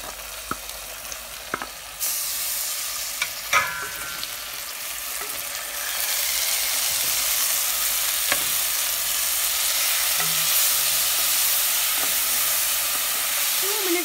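Ginger garlic paste hitting a hot pan, with a few clinks of the spoon at first before a loud, steady sizzle and hiss take over as it's stirred, scraping sounds and small taps over the frying.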